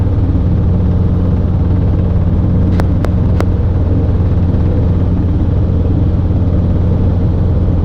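A Robinson R22 helicopter engine and rotor drone steadily in flight, a loud continuous low rumble heard from inside the cabin, broken by a few sharp clicks near the middle.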